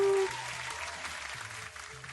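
Thunderous crowd applause at a tabletop role-playing game session, a dense, steady wash of clapping that thins slightly over two seconds, opened by a short tone.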